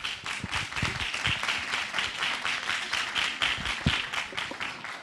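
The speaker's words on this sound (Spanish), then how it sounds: "La recibimos con un aplauso" A small audience at a talk on brucellosis and municipal zoonosis centres in Buenos Aires province applauds to welcome a speaker, a modest, fairly quiet patter of clapping that holds steady throughout.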